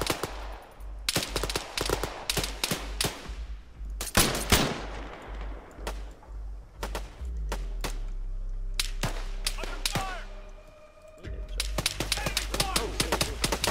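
Rapid bursts of gunfire in the military shooter Arma 3 crack loudly in repeated volleys, some close and some farther off, with a steady engine-like drone in the middle stretch and voices talking over it.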